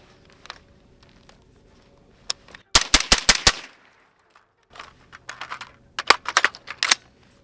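Radical Defense MK1 Patrol Mod1 rifle firing outdoors, a fast string of five sharp reports, a pause, then two further bursts of rapid shots, loud and close with mechanical clicks between.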